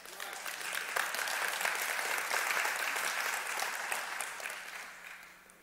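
Audience applause at a Christian talk on voting, a steady dense patter of clapping from a crowd that swells quickly, holds for several seconds and tapers slightly at the end, with no talking over it.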